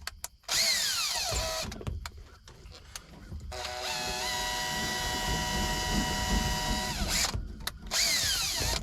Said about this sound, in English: Spin it with a drill.